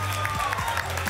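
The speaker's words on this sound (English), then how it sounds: "Big round of applause from everybody in the tunnel" Applause from a crowd inside an indoor skydiving wind tunnel at a prize giving, a dense burst of clapping over the tunnel's low steady roar, brief and fairly close.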